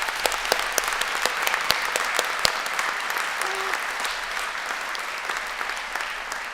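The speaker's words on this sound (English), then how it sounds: "But I think they also deserve a round of applause" An audience at a university graduation ceremony claps for several seconds, a steady wash of many hands with a few sharper individual claps standing out, moderately loud and fairly close.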